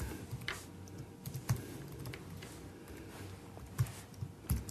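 Soft keystrokes on a computer keyboard while typing a file name, scattered light taps with a few firmer clacks, close by in a quiet room and without speech.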